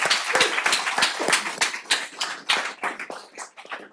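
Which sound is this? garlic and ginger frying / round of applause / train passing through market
round of applause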